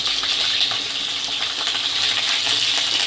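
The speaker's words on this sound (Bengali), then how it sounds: "এবার তেলটা দিয়ে দিচ্ছি, পটলটা ভেজে নিচ্ছি।" Pieces of pointed gourd fry in hot white refined oil in a wok, giving a loud, steady hissing sizzle that continues without a break and with no talking.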